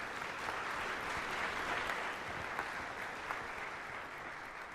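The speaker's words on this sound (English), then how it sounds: "It might be faster if we just hold our applause till I've thanked everyone" Sustained audience applause at a poetry reading fills the whole stretch, a steady dense wash of many hands clapping with no pause, fairly loud and even throughout.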